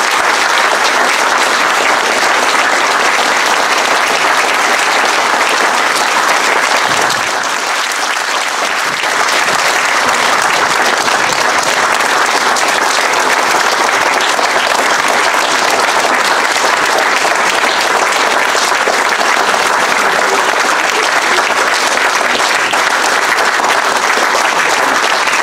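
A large outdoor crowd at a kiosk bursts into loud, sustained applause that runs for nearly half a minute, dense and unbroken apart from a brief dip early on.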